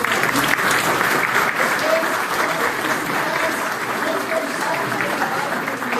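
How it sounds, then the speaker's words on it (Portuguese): Sustained applause from a seated audience of Rotary club presidents at a youth exchange certification event, steady dense clapping with some crowd murmur and faint voices underneath. "uma grande salva de palmas"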